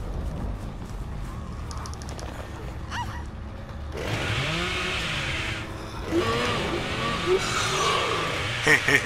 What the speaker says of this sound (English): I'm just gonna use up some chainsaws on you.